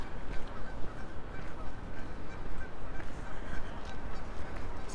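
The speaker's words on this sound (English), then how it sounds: "Here are lots of geese." A large flock of geese honks continuously along an urban avenue in Regina in March, a dense mass of overlapping calls heard over steady outdoor rumble and wind noise.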